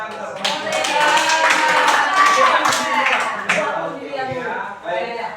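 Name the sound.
audience clapping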